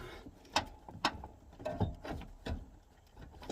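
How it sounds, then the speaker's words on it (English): Quiet, irregular ratcheting clicks and metallic clatter as small bolts are undone on a Honda Civic, close up, with soft knocks spaced unevenly and no talking. "Undo the little bolts."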